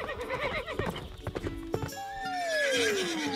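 Horse hooves clip-clop rhythmically, then a loud, drawn-out neigh slides downward in pitch, close and clear.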